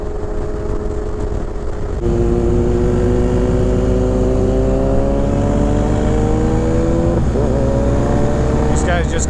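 Suzuki Hayabusa motorcycles rev hard on the open road, loud rising engine whine climbing in pitch over several seconds, heard from a nearby rider's bike amid wind and engine rumble, with a voice briefly talking.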